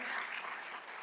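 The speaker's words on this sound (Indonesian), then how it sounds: "Tepuk tangan yang meriah bagi dia." A church congregation applauds, giving a dense, steady wash of many hands clapping that sounds faint and distant throughout.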